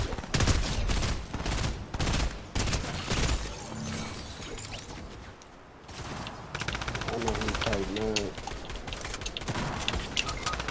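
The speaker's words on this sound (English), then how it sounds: "I shot her in her knee with the ranger." Ranger rifle gunshots in the Fortnite game form dense rapid bursts of loud, close fire, pausing briefly midway and then resuming, with voices talking over the shooting.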